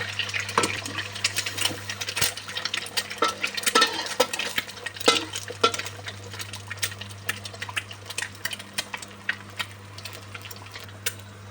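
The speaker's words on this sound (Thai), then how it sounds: "มื่อนี้เราก็มาทอดไข่กันนะแค่ไข่เกี่ยว" Eggs fry in a pan with a steady sizzle, scattered clinks and scrapes breaking through the crackling hiss as the cooking goes on without any talk.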